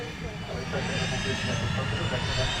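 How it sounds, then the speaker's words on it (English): An executive jet at Manchester Airport gives off a steady, broad jet-engine roar at moderate distance, continuous throughout, with a voice talking over it. "Really nice looking executive jet there."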